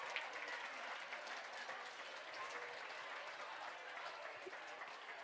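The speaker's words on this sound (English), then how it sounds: "Let's give Bill a great big round of applause for buying that ticket." Steady applause from an audience at a hybrid fundraising gala and live auction, even and continuous throughout but fairly faint and distant.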